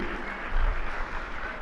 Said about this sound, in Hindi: एक बार जोरदार तालियां संदान सागर जी महाराज श्री के लिए।